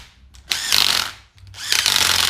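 A DeWalt 1/4-inch impact driver runs bolts home in two bursts, a loud whirring, hammering buzz that starts, stops briefly and starts again, close up and with no voices over it.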